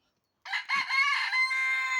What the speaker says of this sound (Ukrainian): А чого так гарно співає півник?